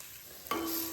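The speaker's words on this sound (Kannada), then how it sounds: "ಬೆಂಡೆಕಾಯಿ ಹಾಕಿದ್ಮೇಲೆ ಜಸ್ಟ್ ಚೆನ್ನಾಗಿ ತಿರುಗಿಸಿ" Okra coated in masala is stirred in a hot pan, giving a quiet sizzle before a sudden sharper scrape and a brighter frying hiss.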